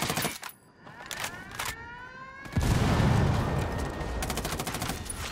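Gunfire in the tactical shooter Ghost Recon during a drug den raid: sharp bursts of rapid shots, sustained automatic fire and a heavy close blast, loud and dense with echoing tails.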